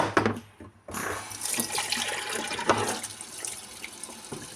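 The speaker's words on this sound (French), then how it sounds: "Je vais mettre de l'eau chaude." Hot water running from a tap, a short burst of splashing, a brief pause, then a steady close flow that continues to the end.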